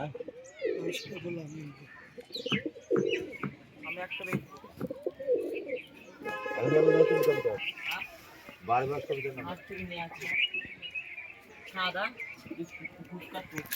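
Pigeons coo repeatedly in soft, rolling bursts at a home loft, interleaved with someone talking throughout, the cooing close and moderately loud between his phrases.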